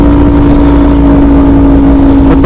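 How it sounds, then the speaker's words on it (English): A 2021 Kawasaki Z400 400cc motorcycle runs loud and close at a constant engine pitch, rough and droning, with a short rising flourish right at the end. "This is a freaking 400cc motorcycle."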